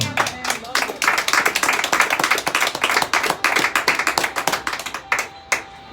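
A church congregation claps hands together in a loud, steady, fast rhythm that continues almost without pause before thinning out near the end.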